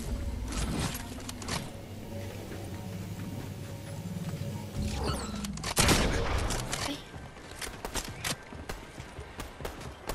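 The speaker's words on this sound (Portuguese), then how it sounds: "Atirei sem querer." An accidental gunshot goes off in a video game, a sharp loud crack in the middle of busy game sounds, followed by a scatter of lighter rapid impacts.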